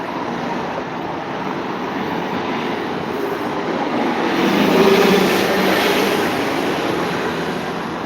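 TTC Nova bus on route 20 Cliffside passing through street traffic at Danforth Avenue and Pharmacy Avenue in Toronto, a broad rumbling swell that rises to a peak midway and then eases, no talk.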